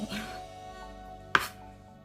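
One sharp knife chop strikes a cutting board while cutting vegetables, a single crisp thud standing out over a steady low hum.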